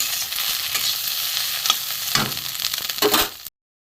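Bitter gourd stir-fried with fish roe, fried onion and potato sizzles steadily in a pan, with a few louder scraping stirs near the end before it cuts off.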